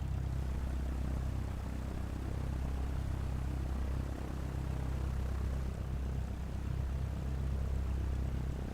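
Steady propeller aircraft engine drone from a light plane in Microsoft Flight Simulator, a continuous low hum at constant level throughout, with no speech over it.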